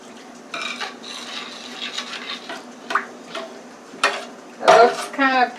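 Turmeric being stirred into rice in a pot, with scattered scraping and clinking of a utensil against the pot in irregular strokes, a louder clatter near the end.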